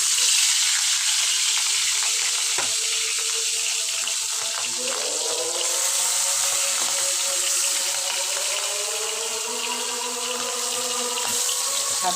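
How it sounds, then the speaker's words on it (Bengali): Fish frying in a small amount of oil, a loud continuous bright hiss of sizzling fat that holds steady throughout, close and unbroken. "মাছ ভাজা বসা দিচ্ছি"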